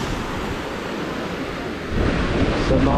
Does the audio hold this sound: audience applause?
no